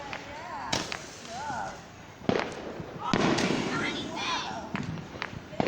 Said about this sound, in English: I guess I'll show a couple more fireworks before I go.